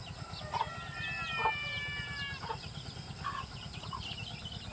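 Rhode Island chickens in a rural Philippine province, soft clucks and calls repeating at a distance over a quiet, buzzing background, with no voices present.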